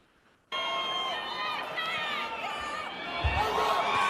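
Crowd at a Trump rally in Las Vegas erupts suddenly into loud, sustained cheering and shouting, with whistles and voices rising above the roar, and a thud near the end.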